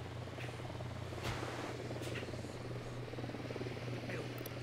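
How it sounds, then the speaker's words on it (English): Drone hovering in the video game Ghost Recon Wildlands, a faint steady buzzing hum that carries on throughout, with a few soft clicks on top and no voices. "Drone."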